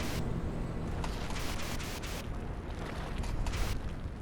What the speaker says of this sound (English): Aha, there's a small water spurt.